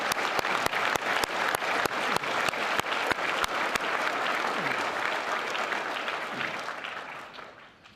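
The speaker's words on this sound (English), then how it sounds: "let's give them a big round of applause for everything they do to fight for the military" Applause for departing air defense artillery soldiers at a battalion sendoff ceremony, a crowd clapping steadily with a few sharp loud claps up front, then the clapping gradually thins and fades out toward the end.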